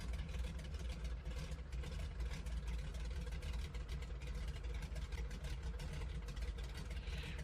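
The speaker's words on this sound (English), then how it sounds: "These engines, the way they sound with the idle chop, reminds me of an old school muscle car." Grumman Goose radial engines idling in Microsoft Flight Simulator, a steady low rumbling drone with a slightly choppy, lumpy idle, fairly quiet and continuous without talk.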